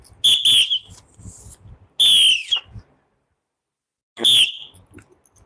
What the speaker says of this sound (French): Non, là, il faut siffler même 3 fois.